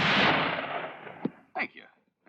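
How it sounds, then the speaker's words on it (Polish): A round of gunshots fired in salute to a regimental flag in a classic Western film, a loud blast ringing out and decaying, followed by a couple of fainter sharp cracks. "Oddajcie strzał na cześć sztandaru pułku."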